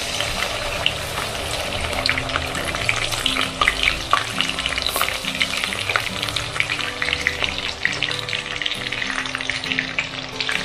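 Onion paste sizzles and fries loudly in hot oil with cinnamon and white cardamom while a prawn curry is being made. The frying is steady and close, with stirring scrapes running through it and no talking.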